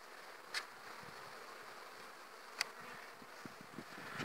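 Steady low buzzing of bees in a hive fills the clip, a dense hum with a couple of brief sharp clicks rising above it.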